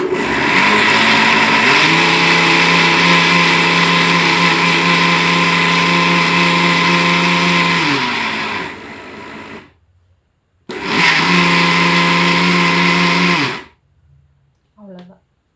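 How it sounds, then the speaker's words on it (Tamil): A mixer grinder whirs loudly as it grinds millet laddu ingredients, a steady motor drone for about nine seconds, then a short pause, a second burst of a few seconds, and a faint clatter as it stops. "இது எல்லாத்தையும் வச்சு மறுபடியும் ஒரு கிரைண்ட் பண்ணிடலாம்"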